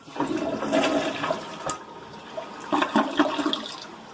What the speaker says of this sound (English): maybe flush the toilet and see what happens